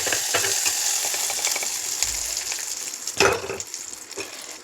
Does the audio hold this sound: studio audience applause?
no